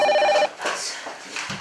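A telephone rings with a short burst of rapid electronic trills, loud and close, then cuts off as indoor movement and faint voices follow.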